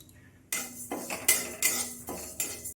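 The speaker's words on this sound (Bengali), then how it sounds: "কড়াই গরম হয়ে গেছে, আমি মুগের ডালটা" Raw moong dal tipped into a hot, dry wok and stirred, giving several loud close metallic scrapes and rattles of spoon against the pan with no one talking.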